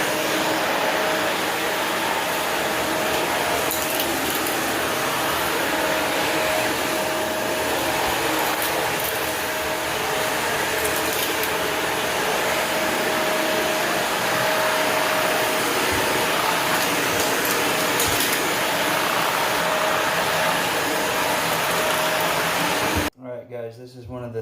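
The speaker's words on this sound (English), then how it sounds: "So I am going to vacuum this floor real quick." A Shark vacuum cleaner runs steadily across a tile floor, a loud, continuous motor whine with a constant tone throughout, cutting off abruptly near the end.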